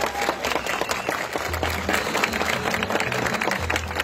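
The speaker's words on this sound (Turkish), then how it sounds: "Büyük bir alkış alalım." Wedding guests in a Tekirdağ hotel hall break into dense applause, a crowd's steady wash of clapping lasting a few seconds with a low hum of music or room noise underneath.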